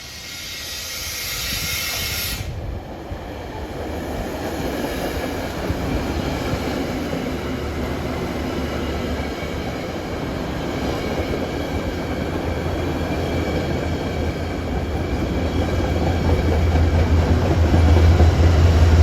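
A Metro-North train runs on track 1 at Riverdale, bound from Croton-Harmon to Grand Central. It passes close by as a steady, loud rumble with rail clatter, and the sound swells toward the end.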